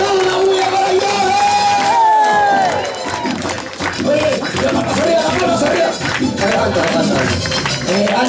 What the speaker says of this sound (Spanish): Y las palmas arriba, las palmas arriba. ¡Una bulla para Flavia!